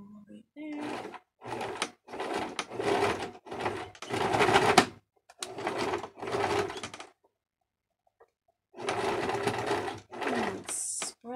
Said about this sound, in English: I'm gonna go ahead and machine sew right there